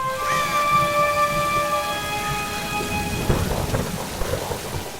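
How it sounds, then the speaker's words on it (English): Steady rain pattering with a deep rolling rumble of thunder in Tomb Raider (2013), a sustained ringing tone fading out early on. "the pattering of rain, distant rumbles of an almighty storm"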